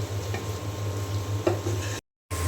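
Spice paste sautéing in oil gives a soft, steady sizzle with a few light stirring ticks, briefly cut off near the end.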